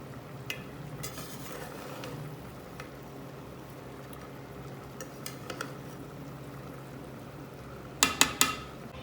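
Chicken tikka biryani is served from a pot, with soft scraping and stirring of rice, a low background hum and a quick cluster of sharp utensil clinks toward the end; no speech.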